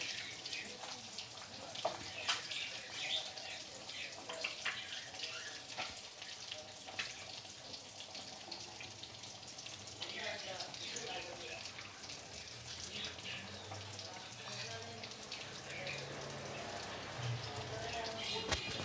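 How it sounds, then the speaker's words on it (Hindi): Fish pieces frying in oil in a pan for a fish curry, giving a soft, continuous crackling sizzle with faint spatters, quiet and steady throughout. "फिश हमारी फ्राई हो रही है।"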